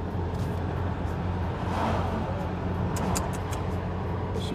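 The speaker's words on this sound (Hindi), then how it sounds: "20 मिनट तो हो चुके हैं हम लोग ट्रैफिक में फंसे हुए" Dense road traffic in a jam on the way back from Leh, a continuous rumble of cars and engines close by with a few sharper bursts near the end, no voices.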